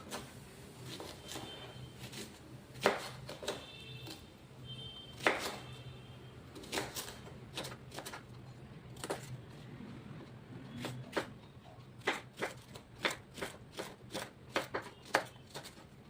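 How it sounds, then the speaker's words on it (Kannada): Raw banana is cut with a knife on a board in a home kitchen: sharp, close chops tap out irregularly, turning into a quicker, steady run of strokes toward the end, with no talking. "ಬಾಳೆಕಾಯಿ ಕಟ್ ಮಾಡಿದ್ದಾಯಿತು ನನಗೆ ಬೇಕಾದ ಸೈಜಲ್ಲಿ."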